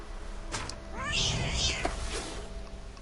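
A cat meows in a video game, one rising, drawn-out call heard over a low background hum, with a brief voice nearby.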